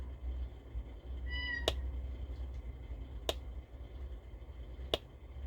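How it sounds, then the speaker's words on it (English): A short meow sounds once, followed by three sharp snapping clicks spaced evenly apart over quiet background hum. "that meow was a notification on my phone"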